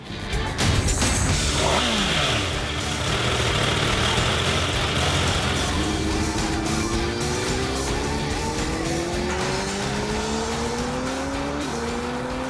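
A Honda CBR 1000RR sport motorcycle engine revs loudly and continuously, with several rising pitch sweeps as it accelerates through the gears, heard up close with steady road noise underneath.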